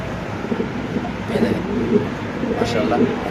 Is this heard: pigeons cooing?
yes